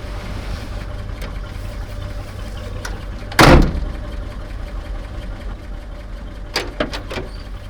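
A 1941 Chevy Coupe engine idles steadily while warming up, giving a low, even rumble throughout, broken once by a loud thump midway and by a few light clatters near the end.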